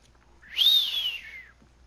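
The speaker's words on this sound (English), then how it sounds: "Weak whistle." A single weak human whistle, a rising then falling tone lasting about a second, heard alone and fairly close during Uncharted 4: A Thief's End gameplay.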